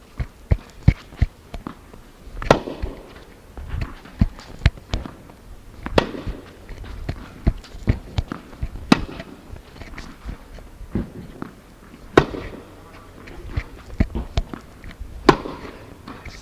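Tennis forehand drills produce a series of sharp, irregular ball strikes and bounces on a court, with footsteps and shuffling between the hits and no talk.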